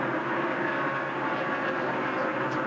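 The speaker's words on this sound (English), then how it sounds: "listen to Mark playing with that throttle" A NASCAR stock car engine at the 2002 Pop Secret Microwave Popcorn 400 drones in a dense, steady roar with slight throttle variation, heard continuously throughout.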